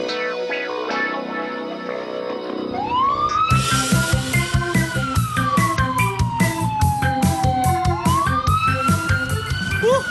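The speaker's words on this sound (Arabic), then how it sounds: "لكن الآن أنا من أقود شاحنة الشرطة" Police truck siren from a children's animated toy-vehicle cartoon, loud rising and falling wails over a rhythmic music backing, following a quieter musical intro.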